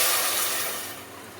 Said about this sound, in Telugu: ఇప్పుడు సరిపడా వాటర్ పోసుకుంటాం.